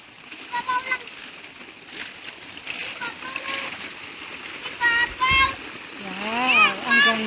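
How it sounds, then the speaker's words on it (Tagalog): Water splashes at a hillside spring where people fetch water and there is a bathing spot, with a steady watery rush under frequent nearby voices, including a child's. "Nandito na kami sa bukal kung saan iigib kaming tubig."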